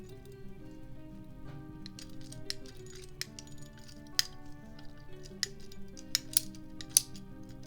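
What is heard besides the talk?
pipe cutter cutting plastic pipe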